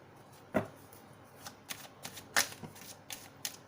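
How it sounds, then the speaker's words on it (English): Tarot cards slipping and falling onto a surface, a quiet scattering of papery flicks and slaps, with a couple of sharper clacks standing out in a hushed room. "Why are the cards falling?"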